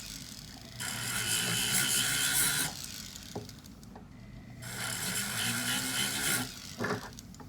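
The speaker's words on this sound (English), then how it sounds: "You just want to lightly touch the top of that sanding disc down." A spinning sanding disc is touched lightly against wire for silver earrings in two bursts of close, gritty rubbing, with a short gap between them.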